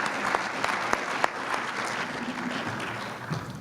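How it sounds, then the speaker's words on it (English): A conference audience at a health policy event applauds for a speaker coming on stage, a steady patter of many hands at moderate distance, with a few sharper claps standing out. "Let's give her a big round of applause."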